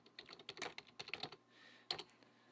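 A quick burst of close, crisp keyboard typing as a cheat is entered in The Sims on a computer, several rapid key taps, a brief pause, then one firmer keystroke.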